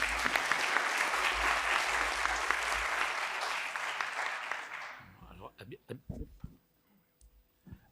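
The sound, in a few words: audience applause welcoming the speaker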